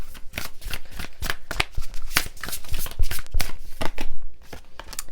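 A deck of oracle cards being shuffled by hand at close range, a loud rapid run of crisp riffling flutters and slaps in quick uneven bursts, with no one talking over it.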